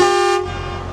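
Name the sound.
car horn honking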